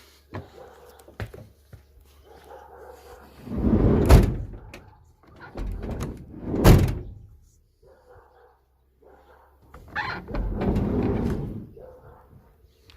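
A van's sliding side door, just repaired, is rolled open and then closed from outside, giving rumbling slides and solid thuds in separate bursts amid light handling noises.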